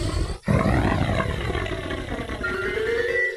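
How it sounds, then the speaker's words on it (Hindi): A deep, snarling growl used as a sound effect in a horror story, loud and close, rumbling steadily for a few seconds after a brief gap, with no talk over it. "तभी अचानक से किसी के गुर्राने की आवाज आती है।"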